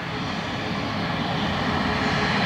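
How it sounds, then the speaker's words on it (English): A Boeing 737 MAX 8 at an airport sits under a steady, loud, broadband engine roar that holds constant for the whole stretch without talking. "This is our 737 MAX 8."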